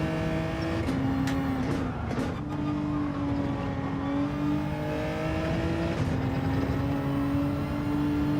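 A Lamborghini engine drones steadily during a Gran Turismo 7 online race, with a sustained tone that shifts pitch through gear changes and brief revving swells, close and loud throughout.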